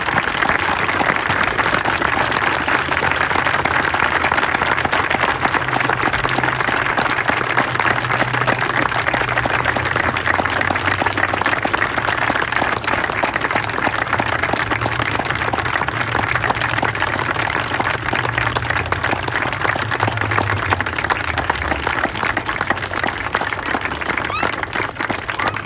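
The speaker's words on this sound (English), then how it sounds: "Give a round of applause." A large crowd at an outdoor Memorial Day ceremony gives veterans a long, sustained round of applause, dense and even for the whole stretch, with a low murmur of voices and a few cheers mixed underneath.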